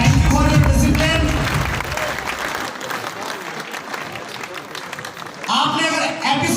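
Loud applause from the audience at a network marketing meeting honoring guests on stage, a dense round of clapping framed by someone talking over a microphone before and after.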